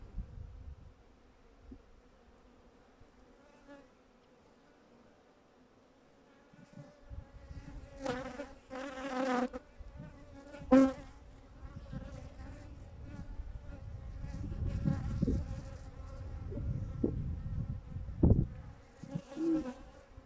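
Honeybees buzz around an open beehive during a beekeeping inspection, a low steady drone with individual bees passing close now and then, plus soft rustling and handling noises from the hive.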